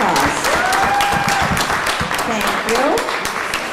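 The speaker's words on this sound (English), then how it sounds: "So let's give them a round of applause." Audience giving a round of applause at a live quiz show finals, a dense sustained wash of many hands clapping, loud and steady, with voices talking over it.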